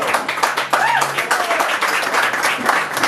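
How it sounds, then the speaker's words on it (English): A crowd at a bachata dance event at the Bitter End in NYC gives a short burst of clapping and applause, fairly loud and close, with voices calling out over it. "Give them a round of applause."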